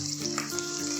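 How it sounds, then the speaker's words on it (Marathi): Spices tempering in a pan of hot oil for poha chivda, a steady close frying sizzle with a faint crackle, continuous and alone with no talk. "त्याच तेलामध्ये आता बाकीचे फोडणीचे मसाले घालायचे आहेत।"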